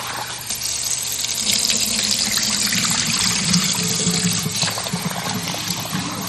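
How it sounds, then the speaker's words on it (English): Long-grain basmati rice being washed in water, with a steady loud rush of running water splashing over the grains, continuous and close throughout, with no talking. "my next step is to wash the basmati rice thoroughly"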